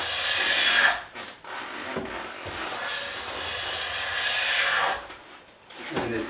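A Stanley No. S4 or S5 steel hand plane shaves wood in long, breathy, hissing strokes up close, each stroke ending in a brief pause.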